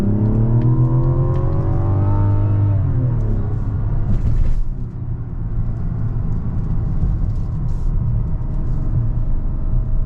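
A heavy three-row 2024 Mazda CX-90 SUV accelerating in sport mode, engine pitch climbing steadily through a gear, briefly dipping at a shift, then a sustained deep rumble and road noise from inside the cabin.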